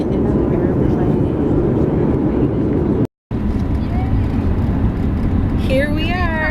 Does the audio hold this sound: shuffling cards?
no